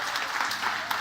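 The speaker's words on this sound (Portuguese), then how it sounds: "Obrigado os 3 gatos pingados que estão aplaudindo" Light applause from a small handful of people in a church, a thin even patter of claps lasting about a second with no voices over it.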